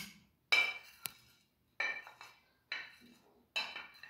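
A spoon clinks and scrapes against a bowl while chopped coriander, mint and green chillies are mixed, four or five separate close knocks with quiet gaps between.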